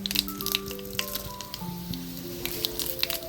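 Fenugreek, mustard seeds and dried chillies tempering in hot oil for a village-style rock fish curry, a close crackling sizzle with scattered sharp pops and spits throughout.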